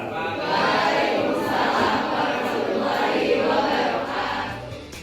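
An audience claps for several seconds, a steady, dense wash of applause that fades toward the end.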